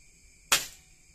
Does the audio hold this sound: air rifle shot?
yes